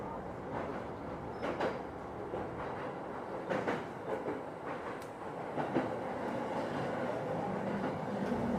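A train runs on a single-track line in Tokyo through tunnels and over narrow bridges near the Tama River, producing a steady interior rumble with scattered rhythmic clacks and knocks throughout.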